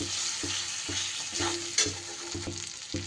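Chopped tomato sizzles in a hot frying pan with oil and spices, a steady hiss punctuated by rhythmic stirring knocks roughly every half second.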